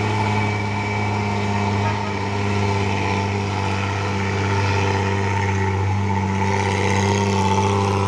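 Heavy engines of a Hino truck and a trailer truck on a road, a steady loud diesel drone with strong low harmonics that swells slightly as they labor, continuous throughout with no talk.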